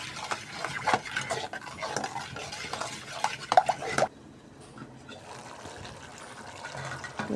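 Beef braises for tehari in a pot, stirred with wet, clattering spoon scrapes and knocks against the metal for about four seconds, then settling into a quieter low simmer.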